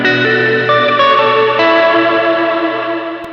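Electric guitar played through a Matthews Effects The Traveler reverb pedal: sustained chords layered in lush reverb that blurs each change into a smooth wash, loud and close, then slowly decaying.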